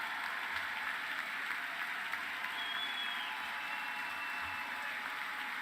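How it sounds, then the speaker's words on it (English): A faint, steady wash of applause fills the House chamber at the State of the Union, sounding distant and continuous without a clear rise or fall. "Guess the clapping is usually after Mitch McConnell"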